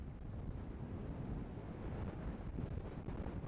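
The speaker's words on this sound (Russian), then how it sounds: "Но ветер жесть. Меня сдувает." Strong wind at a bay near Zenit metro and the Yacht Bridge in Saint Petersburg, buffeting the microphone in a constant heavy low roar with gusting rumble and no voices.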